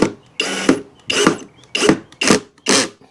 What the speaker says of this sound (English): So now we're putting the screws in